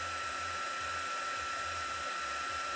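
A heat embossing tool (heat gun) blows hot air in a steady, loud whooshing hiss with a constant electric whine, running uninterrupted and close throughout.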